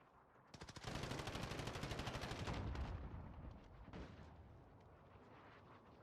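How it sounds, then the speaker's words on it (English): Video game gunfire bursts in abruptly: a loud rapid volley of shots for about two seconds, then thinner scattered shots and rumbling that fade toward the end. "Oh, people shooting."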